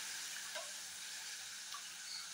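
A tempering for Andhra pappu charu fries in a pan, a soft, steady sizzle with a few faint pops, quiet and close with no talk.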